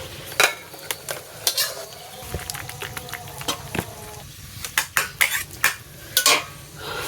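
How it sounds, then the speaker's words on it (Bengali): A spatula scrapes and clinks against a wok as cooked banana flower and prawn curry (mochar ghonto) is tipped out into a serving bowl. Several sharp metallic taps and scrapes come close up, spaced unevenly. "এবার কড়াই থেকে এটাকে আমি এই পাত্রে ঢেলে দেবো"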